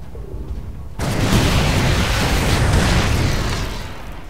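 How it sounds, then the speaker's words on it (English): A Widow Mine detonation in StarCraft II erupts suddenly as a loud, broad blast, then rumbles on as a sustained roaring burst for several seconds before easing. "Pretty good Widow Mine hit there"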